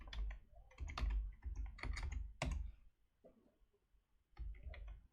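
Rapid bursts of close computer keyboard typing enter an asset number, with uneven clusters of clacking keys separated by short pauses.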